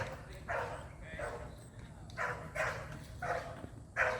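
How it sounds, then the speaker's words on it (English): Dogs in two different neighbouring yards bark repeatedly in short bursts from some distance, several barks spaced across the moment, with faint background noise. "dogs in 2 different yards just going insane"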